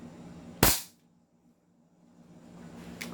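A G18 airsoft pistol fires a single sharp, loud crack that fades quickly, followed by quiet and then a fainter second snap near the end.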